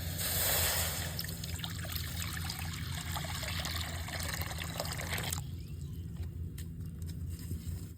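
Water trickles and pours steadily into a pan while mango kasundi is being made, a continuous splashing flow that stops abruptly near the end, leaving quieter room noise.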